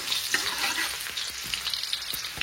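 Onion frying in fully heated oil for chicken fried rice, a steady close hiss and crackle of sizzling with small pops, no voices.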